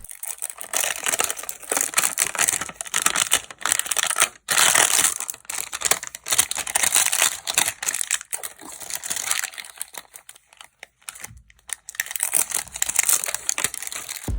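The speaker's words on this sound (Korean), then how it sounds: "이제 신나는 비닐 뜯는 소리 들어보시죠." Loud crinkling and crackling of plastic wrapping being torn and peeled off a new fishing rod in bursts, close up, with brief pauses between rips.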